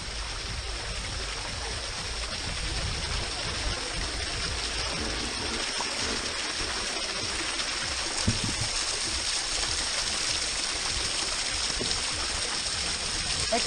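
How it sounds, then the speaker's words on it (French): Streams of water pour continuously at an outdoor water play area at Loterie Farm, Sint Maarten, a broad steady rushing wash that fills the whole scene without pause. "On se croirait dans les jeux d'eau à l'Atlantis de Bahamas"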